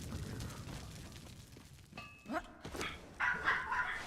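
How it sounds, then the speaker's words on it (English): Dogs barking in the video game Conan Exiles, a few short barks and yips in the second half of the clip over a background of game ambience, with no talking. "Can you hear the dogs bark?"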